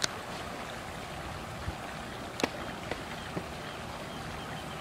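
Water runs steadily in a September 11th memorial pool, a continuous rushing wash with a few faint knocks and clicks scattered through it.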